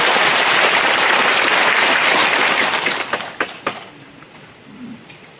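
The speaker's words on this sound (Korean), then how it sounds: "뜨거운 박수 부탁드리겠습니다." Loud, dense applause from a large crowd at a rally fills most of the clip, then thins into a few scattered claps before fading out.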